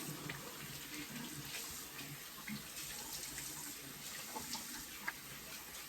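Warm tap water running into a sink during face washing, a soft continuous splashing stream with small irregular spatters, faint and alone.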